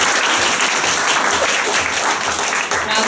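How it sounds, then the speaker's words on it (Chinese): Audience applause at a live stage show in Taipei, a dense, continuous clapping from a large crowd that stays loud and even throughout, with some faint voices mixed in. "掌声"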